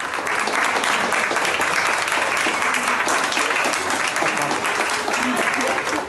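Sustained, dense applause from a crowd celebrating Mariana's victory, loud and even throughout with no pauses.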